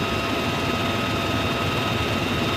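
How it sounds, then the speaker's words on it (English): Military helicopters flying overhead, a steady, dense engine and rotor roar with a constant whine, loud and unbroken throughout, with no voices. "The helicopters are in the air,"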